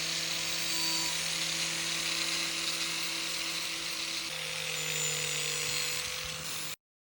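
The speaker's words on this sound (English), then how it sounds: "We minimize chips on the tile with the help of the grinding wheel for ceramic tiles." A grinding wheel for ceramic tiles works a clinker facade tile, a steady, loud abrasive whine with sustained tonal hum running unbroken for about seven seconds before cutting off.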